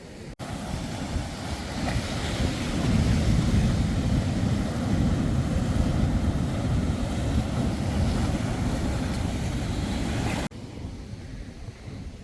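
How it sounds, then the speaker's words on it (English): Continuous ocean waves and surf roar steadily with wind buffeting the microphone, loud and unbroken, no talking. "Hopefully y'all can hear me over the waves"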